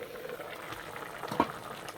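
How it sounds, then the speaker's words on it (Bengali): Vegetable curry broth with pumpkin bubbles at a steady simmer in a covered pan, a faint, continuous low burble heard close by, with no voices over it. "এই যে ঝোল ফুটে গেছে আর সবজি হাফ সিদ্ধ হয়ে গেছে।"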